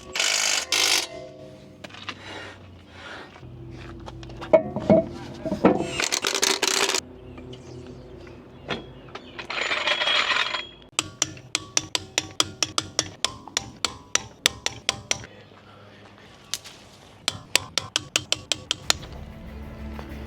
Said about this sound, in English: I totally forgot to tighten up the brake caliper nuts on this side.